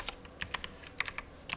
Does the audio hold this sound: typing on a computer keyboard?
yes